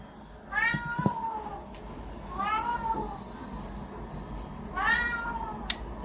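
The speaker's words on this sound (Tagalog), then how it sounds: "Ang ingay ng pusa." A cat meows loudly three times in drawn-out, insistent calls, close by, with quiet room noise and a few light knocks between.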